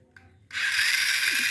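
Battery-powered toy excavator and tank switch on after a couple of faint clicks, breaking into a loud, continuous high whirring of small motors and gears close by, with no talk.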